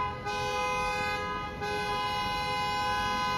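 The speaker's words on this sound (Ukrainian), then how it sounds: "Наші китайці дуже часто" Loud, continuous honking from cars in Chinese street traffic, a sustained horn blare with slight dips in level, dominating the scene with no voices.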